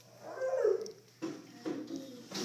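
A dog whimpers and whines in short, high, wavering cries close to the microphone, with a few breathy yelps following.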